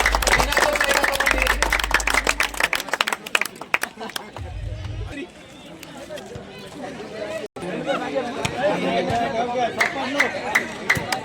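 Spectators at a cricket league champions' felicitation ceremony in a stadium give a round of applause, with dense clapping under chatter and an announcer's voice, fading into murmuring crowd noise and then rising again.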